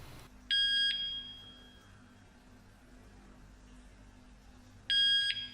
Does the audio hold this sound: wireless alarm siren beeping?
yes